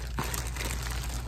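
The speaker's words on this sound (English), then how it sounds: "it's just easier for me to cut the bag" A plastic shipping bag from a Temu order is cut open close by, giving a brief crinkle and snip followed by faint rustling against a quiet background.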